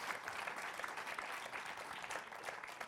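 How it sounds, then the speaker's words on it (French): Faint, distant applause from the audience at a general assembly debate on home care and recruitment, a continuous even patter of many hands at low level. "les applaudissements."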